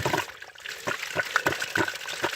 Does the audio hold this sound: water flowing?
yes